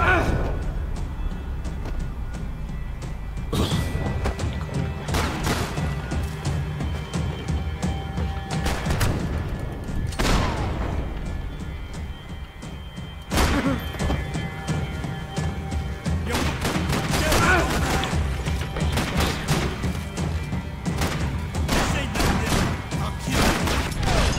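Gunfire in Max Payne 3 cracks out in repeated sharp bursts over a dense, loud game soundscape, with heavy impacts every few seconds and a voice speaking through it.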